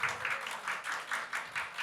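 A congregation at a church Bible seminar gives a short round of clapping. The claps come in soft, evenly pulsing bursts and stay fairly faint throughout.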